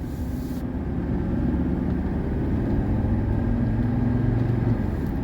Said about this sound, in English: Normal acceleration.